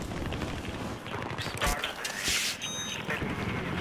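Gunfire crackles in the shooter game Battlefield 3, with irregular rapid bursts and sharp single cracks under a noisy battlefield background.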